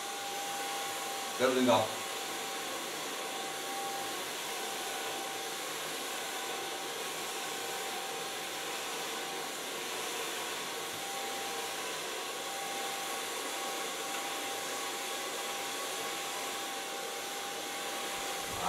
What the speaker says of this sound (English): Then I'm gonna blow dry the hairs with a medium light brush.